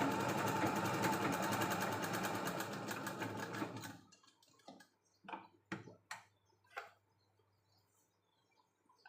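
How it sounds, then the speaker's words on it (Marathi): A domestic sewing machine stitches the back neckline of a blouse, running in a steady, close, loud whir for about four seconds, then stopping, followed by a few short clicks and bursts of handling noise. "तुम्ही मधोमध एक कच्ची टिप पण मारू शकता"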